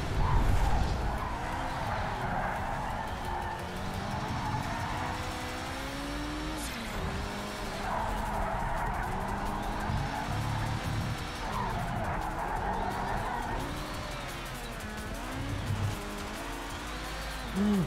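In Project Cars 3, a Ferrari race car skids and squeals its tires through corners while its engine drones and shifts pitch underneath. The sound is loud and sustained, without talk.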